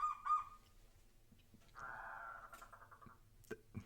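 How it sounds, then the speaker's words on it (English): Doves call outdoors in a few hoarse, drawn-out notes, one longer call in the middle, fairly faint and alone against quiet background. "you can tell that they're evolved from dinosaurs if you listen to the doves"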